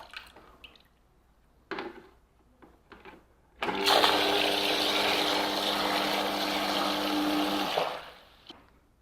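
A sewage or sump pump, switched by a solid-state level switch, starts abruptly and runs with a steady loud whir and hum for about four seconds before cutting off, after faint knocks and splashes.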